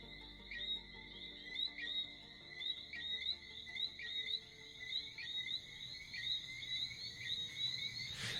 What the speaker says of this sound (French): au son des grenouilles sifflantes